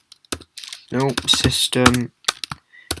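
Keys clatter on a computer keyboard as a command is typed into Terminal on OS X, with quick irregular clicks in short bursts, close and clear, mixed with a person talking.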